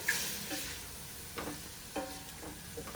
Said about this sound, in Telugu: కొద్దిగా సాల్ట్ వేసి ముక్కలు ఫ్రై చేసుకోవాలి